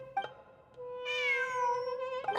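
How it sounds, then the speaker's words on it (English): Cat in the Genshin Impact video game giving a drawn-out, clear meow that rises then falls, preceded and followed by short chirps, close and distinct against quiet background. "I'm not hearing things. It really is a cat."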